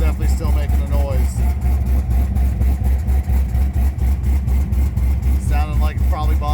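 A Procharged LS-swapped BMW engine runs at a steady idle with a bottom-end knock, a loud, constant low rumble with rhythmic ticking throughout, close up, with a voice talking over it.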